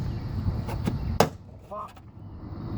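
Plastic trim clips popping loose from the door panel of a 2006 Jeep Liberty, a few sharp close snaps with one louder crack, over low room noise.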